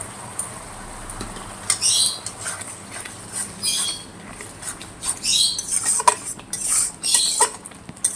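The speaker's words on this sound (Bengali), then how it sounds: "এবার গুলে রাখা মশলাটা দিয়ে দেবো আমি।" Dissolved spice paste going into a fish curry and being stirred, with repeated scraping, clattering utensil strokes against the pot in irregular bursts over a faint background hum.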